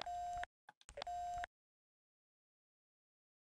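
Telephone call beeping in the X-Files PSX video game: two long, steady electronic tones separated by a short pause and a few small blips, followed by silence.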